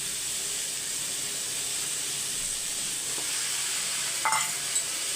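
Drumstick pieces and onions sauté together in a pan with a steady soft sizzle and hiss, closer stirring scrapes breaking through near the end; no one talks.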